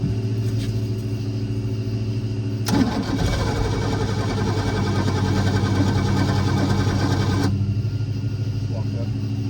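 A restored boat engine starts with a sudden burst after a few seconds of idle background, then runs loud and steady for about five seconds before cutting off, with people talking nearby.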